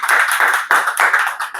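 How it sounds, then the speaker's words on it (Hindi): An audience claps in a lively burst of applause, many hands pattering densely and close with no voices over it. "भोगेंद्र सर के लिए जोरदार ताली।"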